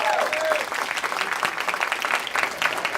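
Audience applause with some cheering at an event where a guest is being introduced, a steady dense clapping that fills the whole moment at close range and fairly loud, without speech over it.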